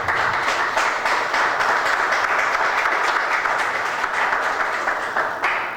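Warm, steady applause fills a Sunday morning church service as the congregation welcomes guests, a dense continuous clatter of many hands at an even level throughout.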